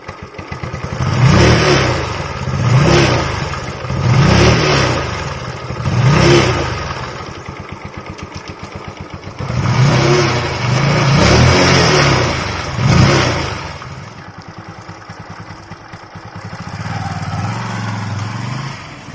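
A Bajaj Pulsar 135 motorcycle engine fitted with an automatic chain adjuster, revved close by in about seven rhythmic throttle blips that rise and fall over a steady idle, ending in a lower settling idle.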